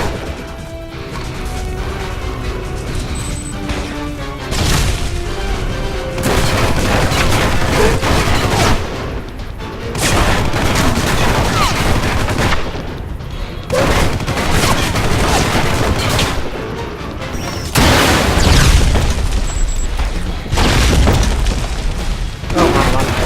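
In the video game Alpha Protocol, a tank fires and explosions hit in repeated loud, heavy booming crashes, with rapid gunfire bursts between them over about twenty seconds.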